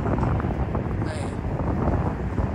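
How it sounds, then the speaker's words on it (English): Steady wind buffets a microphone outdoors at a mobile home, a dense, loud rumbling roar that lasts throughout with a brief higher whistle partway through. "Hey, and I'm sorry about the wind."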